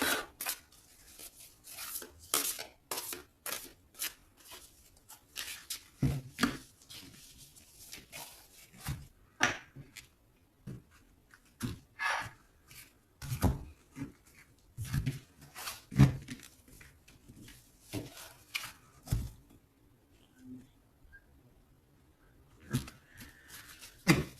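A deck of tarot cards being cut and shuffled at close range, with crisp snapping and riffling card sounds in irregular bursts separated by quiet pauses.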